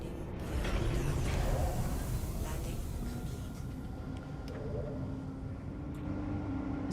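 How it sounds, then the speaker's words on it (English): A spaceship in a space-flight video game flying nearby, a steady low broadband engine rumble with mechanical creaks and faint whines, continuous and moderately loud throughout. "I heard a ship here."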